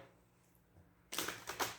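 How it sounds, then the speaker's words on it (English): A deck of tarot cards gets a quick riffle shuffle close by, with a brief burst of flapping, fluttering card noise after a near-silent pause. "We'll do one more shuffle"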